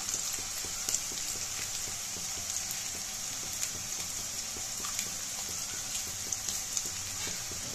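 Finely chopped onion and two dried chillies frying in oil, a continuous even sizzle with scattered light crackles heard close in the pan.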